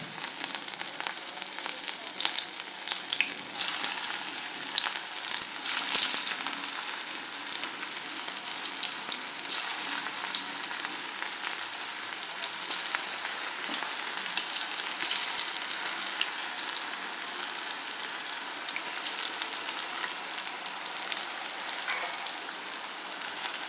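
Bitter gourd pieces fry in hot oil in a pan, a steady dense sizzle and crackle running unbroken at close range with no talking.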